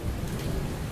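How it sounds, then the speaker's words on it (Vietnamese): Heavy rain pours in a dense, constant hiss during a thunderstorm, with deep rumbling underneath, loud and unbroken throughout, no voices. "Trời ơi mưa gió bão bùng quá ghê quá."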